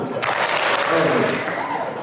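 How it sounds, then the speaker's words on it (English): A banquet audience at a chamber of commerce awards evening claps in a sustained, dense burst of applause that fills the room, with voices mixed in underneath. "Remember, y'all, one clap."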